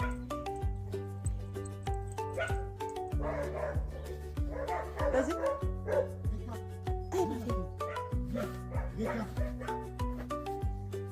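Rapid, shrill yapping from a young dog continues throughout, close by, over a repeating melodic tone with a person speaking intermittently.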